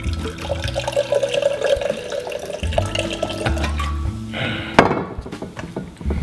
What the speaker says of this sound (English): First, we begin with gin. A liberal helping of that should do.